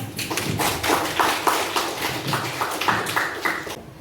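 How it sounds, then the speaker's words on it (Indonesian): A classroom of students claps for their classmates' design projects. The claps are steady and fairly rhythmic, close and moderately loud, with no talk over them. "Kita beri tepuk tangan."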